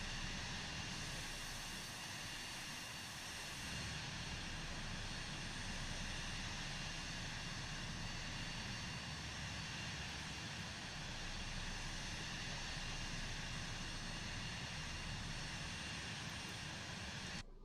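Cirrus Vision Jet G2 in flight in Microsoft Flight Simulator, a steady, even jet engine roar with airy hiss that holds without a break for the whole stretch, no voices over it.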